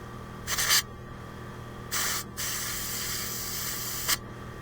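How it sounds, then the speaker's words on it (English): Compressed air blows out a bolt hole on a weedeater mower project in three short, loud hissing blasts separated by pauses, over a low steady background hum. "get some compressed air in there"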